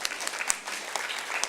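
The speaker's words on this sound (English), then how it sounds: "just give her another hand of applause" Applause from an audience, a steady patter of many hands clapping with a few sharper claps standing out, no voices over it.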